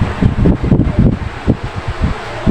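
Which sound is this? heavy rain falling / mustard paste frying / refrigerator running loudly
refrigerator running loudly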